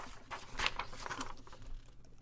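A sheet of paper is crinkled and handled close up, giving a dry, crackly rustling that rises and falls for a couple of seconds before fading out.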